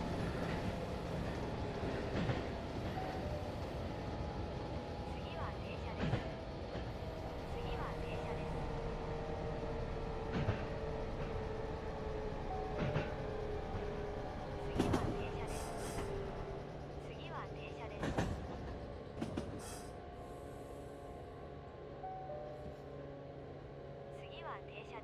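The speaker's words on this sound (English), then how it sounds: "This is a diesel train going the other way" A diesel train passes on the opposite track in a train simulator game: a continuous rumbling rail drone with rhythmic wheel clacks and occasional sharp metallic knocks, steady and moderately loud under a constant bed of engine noise.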